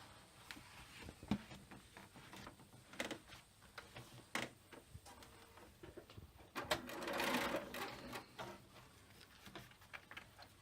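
A sewing machine stitches the side seams of a fabric frame bag through several thick layers, giving short, uneven runs of close mechanical whirring and clicking broken by brief stops.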